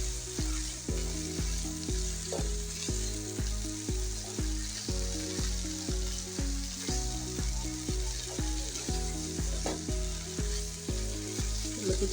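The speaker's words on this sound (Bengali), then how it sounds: "লতিটা দিয়ে ভালো করে মশলার সাথে নেড়ে মিশিয়ে দেবো।" Taro stolons fry with shrimp and spices in a pan, giving a steady close sizzle with regular stirring scrapes, heard against a soft musical backing.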